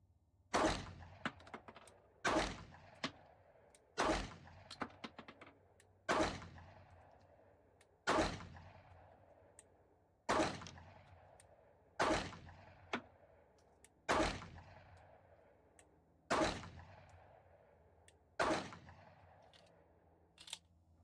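SIG P365XL AXG Legion pistol fired at a range in repeated sharp, loud single shots about two seconds apart, each with a decaying echo, making up steady strings of ten rounds.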